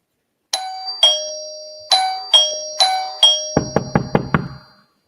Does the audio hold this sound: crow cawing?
no